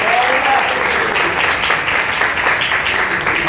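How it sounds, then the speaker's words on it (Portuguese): A church congregation at an anniversary service claps loudly and continuously, a thick unbroken roar of many hands filling the room throughout. "Receba o céu do Senhor com palmas em nome de Jesus."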